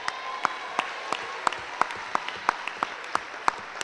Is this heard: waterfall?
no